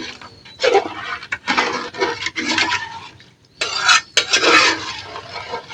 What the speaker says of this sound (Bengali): পানিটা দিয়ে আবারও চাইলের সাথে মিশিয়ে দেবো নেড়ে চেড়ে